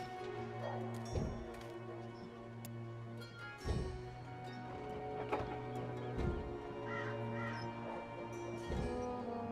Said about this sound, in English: Go look for that goddamn bird over there.